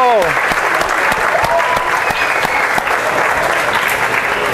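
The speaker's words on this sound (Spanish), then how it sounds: "Un aplauso para ustedes y para este maravilloso festival" Festival crowd at the Mono Núñez music festival giving sustained, loud applause, dense clapping held steady throughout with voices and calls mixed in.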